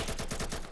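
Rapid gunfire in the tactical shooter game Insurgency, a quick burst of about six evenly spaced shots at steady loudness, heard alone without talk.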